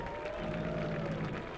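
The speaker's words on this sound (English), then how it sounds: "Let's give these big rigs a round of applause." A crowd at Lebanon I-44 Speedway applauds and cheers the big rigs, a dense wash of clapping and crowd noise with a faint tone running through it.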